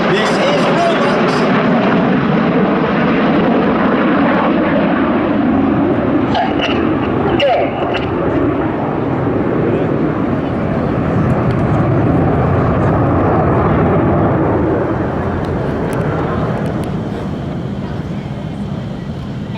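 Red Arrows jets flying rollbacks at an air show produce a broad, loud roar that swells and lingers across the sky, with a commentator talking over it and wind buffeting the microphone.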